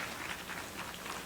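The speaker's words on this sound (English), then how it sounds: "Round of applause, Apiorkor, Ashong-Abbey," Brief, faint applause from an audience at an International Women's Day poetry event, a steady patter of clapping with no voices over it.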